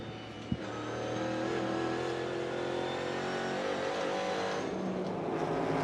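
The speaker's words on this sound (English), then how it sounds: "I will say one thing about Larson's car, y'all. It looks perfect. I mean, comes off the corner" NASCAR Cup Series race cars roar around the track during the All-Star Race, a steady dense engine drone at moderate distance with no talk over it.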